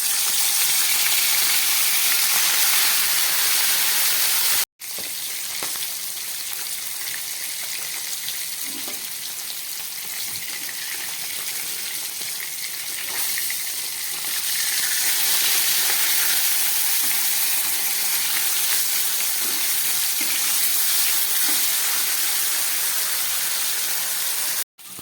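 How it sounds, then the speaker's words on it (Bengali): Koi fish frying in hot oil in a wok gives a loud, steady crackling sizzle that fills the whole stretch, with a brief break near the start and no voices. "তেলটা গরম হয়ে গেছে, আমি মাছগুলোকে ভেজে নিচ্ছি।"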